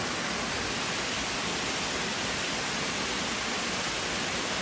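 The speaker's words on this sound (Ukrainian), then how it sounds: "Відсюди витікає водоспад. І він тече згори." A waterfall pours out of a gorge in northern Italy as a dense, constant roar of rushing water, loud and unbroken throughout.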